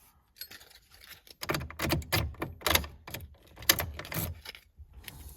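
Keys are worked in and out of a newly installed Chevy ignition lock cylinder on a GMC/Chevy truck, a series of close metallic jangles and clicks in bursts, with no talking.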